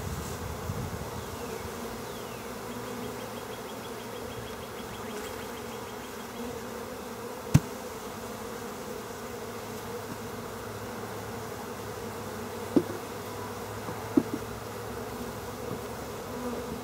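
Honeybees buzz steadily around an open hive during the first inspection of a new colony, a constant close drone with a few faint sharp clicks.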